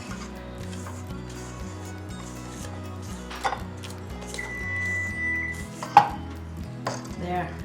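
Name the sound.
spatula scraping a mixing bowl of pound cake batter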